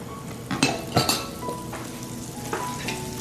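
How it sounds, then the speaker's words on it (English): Shrimp sear in butter and canola oil in a pan, with a soft steady sizzle broken by several sharp utensil clinks and scrapes against the pan, close up. "This is just to sear the shrimp to give it some buttery flavor."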